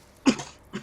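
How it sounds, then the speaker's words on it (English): A single short cough, then a softer second one, sounding close and moderately loud during a tabletop game session, with no talk over it. "That was Gror coughing, not me."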